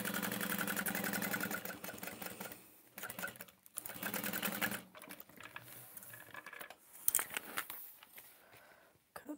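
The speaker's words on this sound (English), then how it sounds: "I just line up that straight edge and sew around the top." A sewing machine stitches around the top of a test bag in rapid mechanical runs that start and stop several times, separated by pauses with small handling sounds, close by and fairly quiet.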